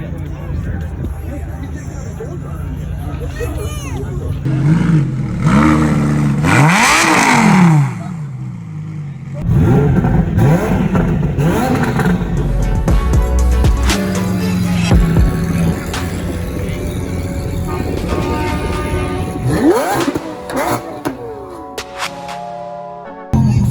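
A car engine revs hard at an outdoor car meet, rising and falling roars with throaty rumble over crowd chatter and people talking nearby.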